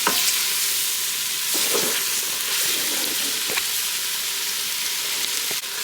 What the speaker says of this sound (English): I'm going to saute these until these vegetables soften up